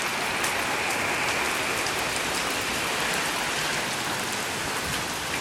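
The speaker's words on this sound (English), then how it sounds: "Look at this rain, dude." Heavy rain during Hurricane Irene in Boston, a steady dense roar of falling water and splashing drops, loud and constant, with no break or talking over it.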